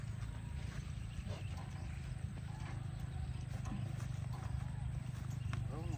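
Water buffalo (carabao) hooves during race practice: a steady patter of hoof clopping within a dense, noisy outdoor mix, with people talking throughout.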